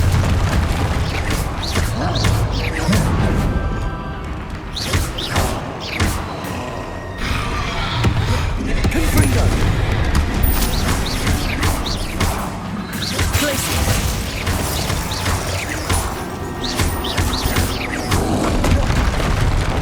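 Confringo fire spells in the Hogwarts Legacy video game go off again and again in loud, close explosive blasts, mixed with whooshes and crashing impacts in dense, continuous combat.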